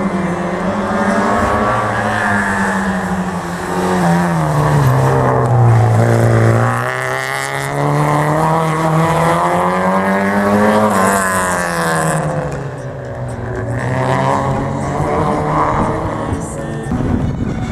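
Group N touring car on a slalom course, its engine revving hard and rising and falling steadily through gear changes and turns, loud and continuous for the whole run.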